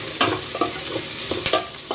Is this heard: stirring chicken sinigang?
yes